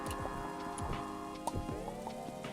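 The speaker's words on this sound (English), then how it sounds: "Oh, it's raining." Steady rain falls in a video game, with dense patter and scattered drips and ticks over a constant wash, alongside layered tonal game sounds.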